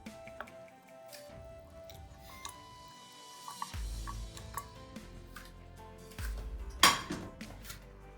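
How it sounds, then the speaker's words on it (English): Boxed cake mix being worked together with a stick of butter in a bowl, heard as faint, scattered clinks and taps of a utensil, then a sharper knock near the end, quiet and without talk. "And we're gonna just mix that together."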